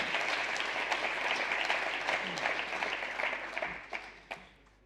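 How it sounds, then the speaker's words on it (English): Audience at a hackathon awards ceremony applauds in a dense, sustained wash of clapping that gradually thins and fades, leaving a few scattered louder claps near the end. "give him a big hand of applause"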